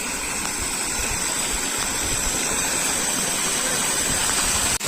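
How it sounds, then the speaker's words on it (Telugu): Jayamangli River near Hindupur overflowing and rushing, a loud continuous roar of churning water that stays steady and close throughout with no talk. "ఈ నీళ్ళు పరలుతున్నాయి చూడ"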